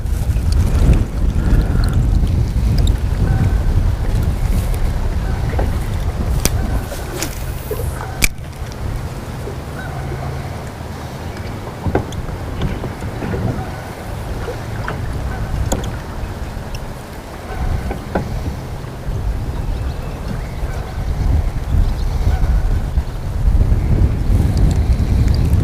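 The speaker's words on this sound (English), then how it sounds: "A little difficult when that wind's blowing right down the bluff." Wind gusting down a bluff beside the water while fishing: a steady, loud broadband roar with microphone buffeting throughout, no voices.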